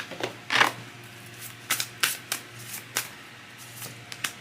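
Tarot cards are drawn and shuffled by hand, a series of short papery flicks and slaps in an irregular rhythm, close and fairly soft over a faint steady hum, with no voices.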